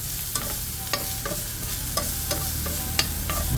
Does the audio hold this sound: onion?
yes